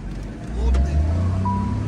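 A Peugeot car accelerates on a test drive, its engine rumble swelling low and close inside the cabin as it picks up, with people talking over it.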